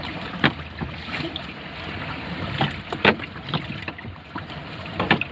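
Strong wind roars over a phone microphone on a small boat, a constant buffeting rush broken by sharper gusts and thumps of handling, close and rough.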